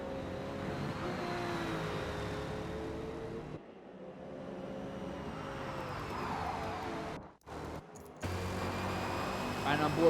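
Porsche and BMW race cars in an iRacing sim race at Road America drone steadily with engine revs and shifts, cutting out briefly in places, under continuous commentary.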